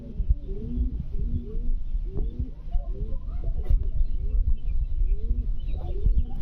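A pigeon at a market gives a run of close, low rolling coos, one after another in a steady rhythm, alongside faint rustling and occasional soft clicks.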